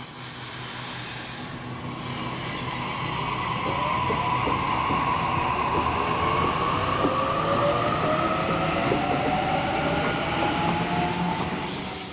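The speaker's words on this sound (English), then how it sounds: "then it'll be going out west and it's now departing." A Sydney commuter train pulls out of Waverton station, a steady loud rumble of wheels and traction with rising tonal whine and occasional squeal, close by and continuous with no talking.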